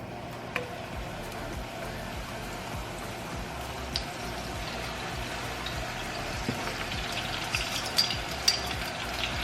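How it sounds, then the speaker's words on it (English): Tortillas fry in hot oil for seafood enchiladas, giving a steady, close crackling sizzle with scattered sharper pops and no talk. "I'm just gonna go ahead and fry our tortillas"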